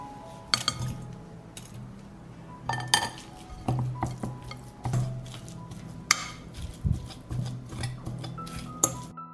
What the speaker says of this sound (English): I separated the sardine from the oil and now I will shred it with a fork.